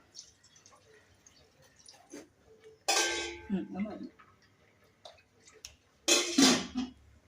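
Hot water pours into a pan of yellow fish curry in two short, loud splashing bursts with quiet gaps between them, and a voice is faintly present.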